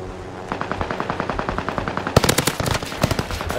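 Rapid, loud gunfire from a sniper rifle in the Warzone video game on the Fortune's Keep map, a fast even string of sharp shots that grows denser and harder partway through, with no talk.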